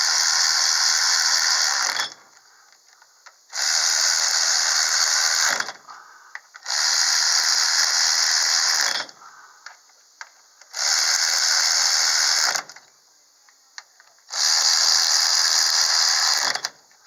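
A ratchet tightening nuts on the quick change gear cover of a Winters rear end, five loud rapid clicking bursts of about two seconds each, separated by short quiet pauses.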